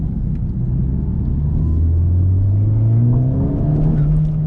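A 2018 Honda Civic Type R accelerating in R mode, the deep engine note climbing steadily in pitch as revs build, loud and close from inside the car, with no talking.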